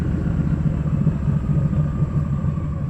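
A Porsche Cayenne drives past, its low engine rumble steady and fairly loud throughout, with a mid-pitched motor tone riding over a constant road roar.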